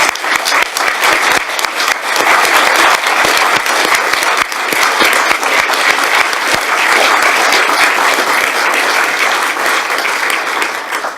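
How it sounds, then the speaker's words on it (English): A council meeting audience gives sustained applause for a retiring mayor and mayoress couple, a dense, loud clapping that continues evenly for about eleven seconds in a large room. "So can I ask you all to applaud this couple"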